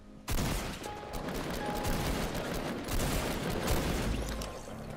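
Sustained gunfire in Fortnite Mobile, a dense continuous barrage of shots starting abruptly and staying loud throughout.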